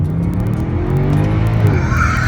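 A 2010 Mercedes-Benz C63 AMG sedan accelerates hard, its loud V8 roar rising steadily in pitch up close with a hint of tyre squeal, filling the short burst continuously.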